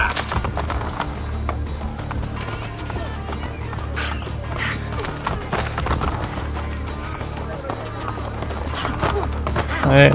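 Horse galloping in the video game Assassin's Creed Brotherhood, with rapid, steady hoofbeats close up and continuing throughout, backed by game ambience.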